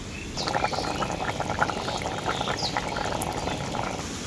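A pan of curry gravy with water for a parwal and paneer dish boils vigorously, a dense, close bubbling and popping that continues evenly throughout without talk.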